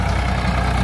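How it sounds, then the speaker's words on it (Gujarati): A tractor idles close by as it pulls in to be loaded with onions, a steady low diesel rumble with throbbing engine pulses that hold at the same level throughout. "ટ્રેક્ટર આવી ગયું ભરવા"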